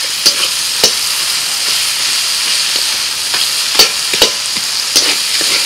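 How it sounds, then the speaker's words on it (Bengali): Fried fish heads go into cooked-down masala spiced with Kashmiri chilli powder, sizzling in a steady, close hiss with a few sharp spatter pops and stirring clicks, no talk. "মশলা কষানো হয়ে গেছে, দিয়ে দিচ্ছি মাছের মাথা ভাজা।"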